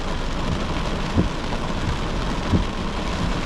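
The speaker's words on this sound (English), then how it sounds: "some heavy rain pushing through Bridgeman Downs at the moment" Heavy rain pours down during a storm at Bridgeman Downs in South East Queensland, a loud, dense, steady hiss with a couple of brief heavier bursts and no voices.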